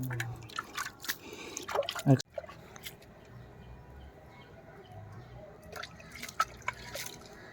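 Hot water trickles and drips from a pipe fed by a tank at a village home during Pongal, a run of close, irregular splashes that quickly gives way to a quieter steady flow with a few sharper drips near the end.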